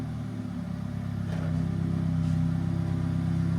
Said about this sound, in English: That's the customer revving it